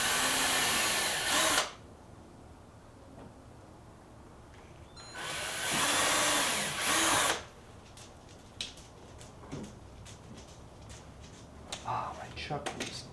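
A power drill with a keyless chuck driving screws during an arcade machine repair: two loud, whirring bursts of a few seconds each, followed by lighter clicks and handling noises.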